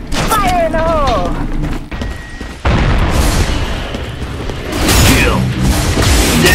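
A grenade blast in the shooter Fear Online booms loudly amid gunfire and game effects, with voices heard over the mix.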